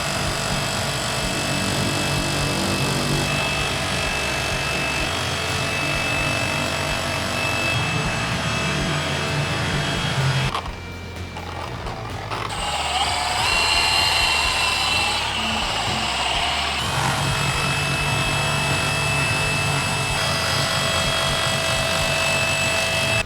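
A power polisher whirs steadily as it polishes and waxes a Dodge Challenger R/T, a continuous close motor drone that briefly drops away midway before resuming.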